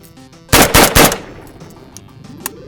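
Century Arms BFT-47, an American-made AKM-pattern rifle with a bulged forged trunnion, fires three loud close shots in quick succession, followed by fading echo and a faint clink.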